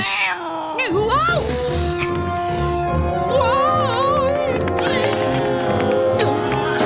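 A cartoon cat meows and caterwauls loudly in long, wavering, pitch-bending yowls that overlap one another, set against music and other cartoon sound.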